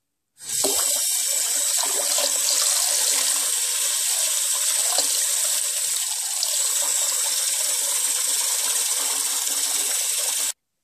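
Water running steadily from a tap while hair is washed, a close, loud, continuous hiss that starts abruptly and cuts off at the end.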